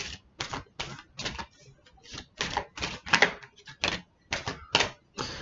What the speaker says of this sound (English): I'm going to go and pull a few more cards now from the Wisdom of the Oracle deck.